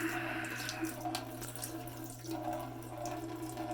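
Coolant draining from a PC liquid cooling loop in a budget Ryzen gaming build, a steady faint trickle and splash of water running continuously beneath a low constant hum.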